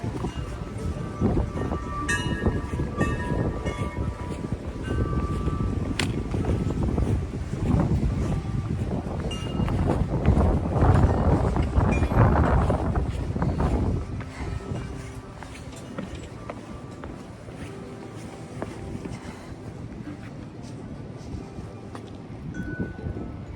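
Strong wind on the Appalachian Trail buffets the microphone in a steady, heavy roar that swells and eases, louder in the middle and quieter toward the end.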